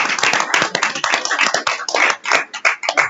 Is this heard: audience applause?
yes